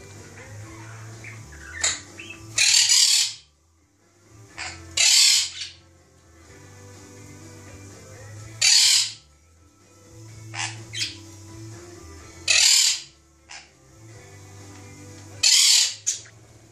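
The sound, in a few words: crow cawing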